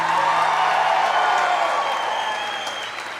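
A church congregation applauding and cheering at a charismatic Catholic worship service, dense steady clapping that fills the space and slowly fades, with a few whoops and crowd voices mixed in.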